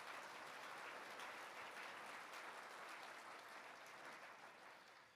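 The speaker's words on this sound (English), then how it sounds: "Let's give them another round of applause" Sustained applause from a luncheon audience at a scouting awards event, a dense steady wash of many hands clapping that holds evenly before tapering slightly toward the end.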